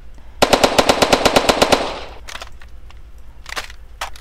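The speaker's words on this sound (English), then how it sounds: "by pressing this fire button, holding it, you are firing the enemies like that" Automatic gunfire in a Unity FPS zombie shooter game sounds as a loud, rapid burst of about a dozen evenly spaced shots lasting under two seconds, followed by a few scattered quieter game sounds.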